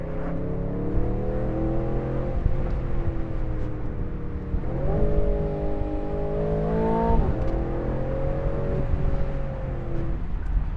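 An Aston Martin Vantage Roadster engine, roof down, revs and rises in pitch in several swells, loud and close throughout with no talking.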